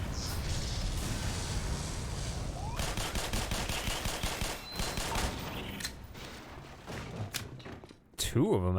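Rapid gunfire bursts and single shots in the video game Black Mesa, loud and dense, with thuds and shifting intensity and a voice talking at times over the shooting.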